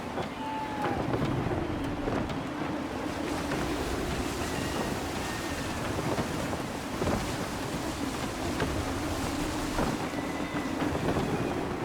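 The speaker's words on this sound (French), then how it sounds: "Le vent est en train de tourner." Steady wind and sea spray around the sailing ship Aquila at sea in Assassin's Creed 3, a constant rushing wash of waves and gusts with faint creaks throughout.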